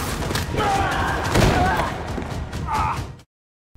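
Gunfire breaks out in a tense shootout scene from the Korean series Good Bad Mother, with dense, sustained bursts of shots under a dramatic soundtrack and voices, cutting abruptly to silence near the end.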